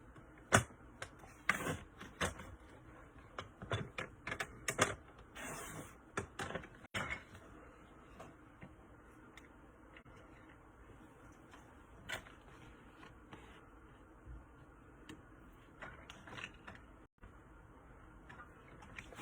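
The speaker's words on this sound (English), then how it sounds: "I'm going to cut my designer series paper down a little bit." Designer series paper is trimmed down on a paper cutter for stamping, giving faint, scattered ticks, clicks and light scraping taps spread over a quiet background.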